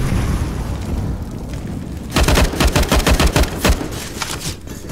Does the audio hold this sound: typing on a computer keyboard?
no